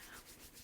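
Palms rubbed briskly together to build heat, a soft, close, continuous swishing friction with a gentle back-and-forth pulse, brief and quiet.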